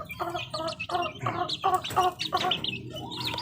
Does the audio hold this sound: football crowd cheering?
no